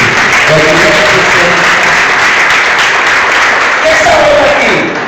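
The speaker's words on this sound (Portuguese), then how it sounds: "Dê palmas para o Senhor." A church congregation claps loudly and steadily for several seconds, a dense wash of hands with faint voices mixed in, fading slightly at the very end.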